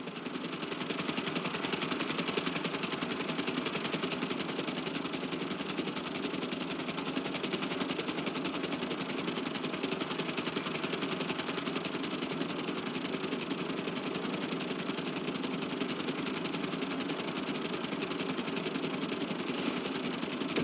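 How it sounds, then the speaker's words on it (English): A helicopter descends onto a helipad in the GTA V video game, with a constant loud rotor and engine roar that stays dense and unbroken throughout. "Bring the helicopter down gently onto the helipad."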